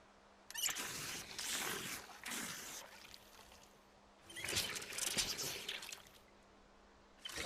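Water being poured out for horses in the Project Zomboid survival game, heard as a few broadband splashing pours in bursts separated by brief pauses, with a low steady hum underneath.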